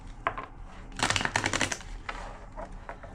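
A deck of cards being shuffled, with short bursts of rapid riffling clicks, the loudest in the middle and softer ones near the end, close up.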